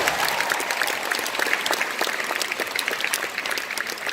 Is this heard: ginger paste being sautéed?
no